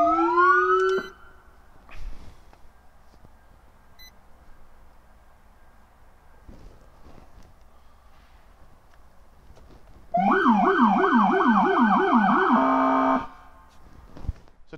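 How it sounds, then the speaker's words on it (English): A low-frequency rumbler siren on a 2020 Ford F-150 fire pickup sounds loud and close: a rapid warbling wail runs for about three seconds after a brief opening whoop and a long quiet stretch. "they have the low frequency siren also onto that"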